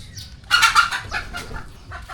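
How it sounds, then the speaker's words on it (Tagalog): A chicken clucks in short bursts near a parked motorbike outdoors, fairly close and moderately loud over low background rumble. "Yung manok, nandun sa motor oh."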